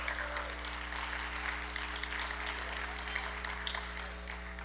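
An audience inside the Barrymore theatre in Madison applauds at a public event, a moderate, continuous wash of many hands clapping heard from a distance over a steady low hum, with no pauses.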